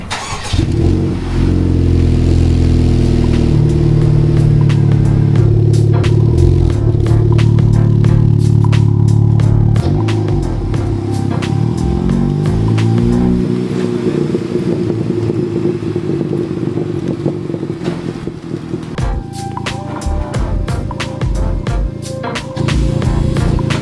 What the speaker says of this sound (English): it's time to try the track exhaust.